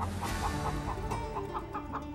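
Chickens clucking in a coop, a rapid series of short, evenly spaced clucks over a constant low background hum, close and moderately loud, with no talking.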